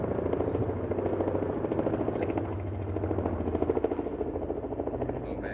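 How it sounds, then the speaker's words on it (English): A helicopter passing overhead gives a loud, steady rotor thrum with a rapid chopping beat that stays strong throughout, while a person talks underneath it. "a helicopter has to pass overhead"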